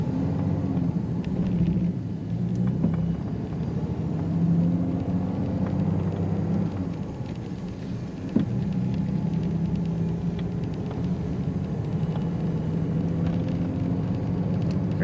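A 1947 Lincoln Continental two-door club coupe engine pulls steadily in first gear, a continuous low rumble from inside the car with a brief knock partway through.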